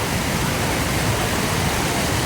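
Strong, heavy water flow rushing over the Balanac River dam in Magdalena; a dense, continuous roar, close and loud, with no other sounds.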